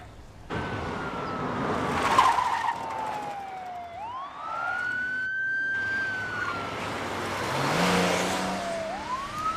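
Police siren wails and sweeps in pitch over a revving car engine during a high-speed pursuit of a suspect's vehicle, loud and continuous with the engine rising as it accelerates.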